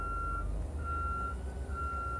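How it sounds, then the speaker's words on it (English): Reversing beeps from a bus backing up during a pre-trip drill: a steady, continuous electronic beeping over a low idling engine rumble, moderately faint, with no talking. "I'm going to back the bus up so the rear tires are even with the first cone"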